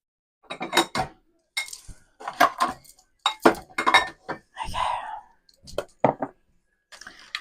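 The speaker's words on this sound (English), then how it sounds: "So we're going to beat this until soft and creamy" Cream cheese brownie batter being beaten in a bowl, with irregular clinks and scraping of utensil against the bowl in short bursts, interleaved with a person talking nearby.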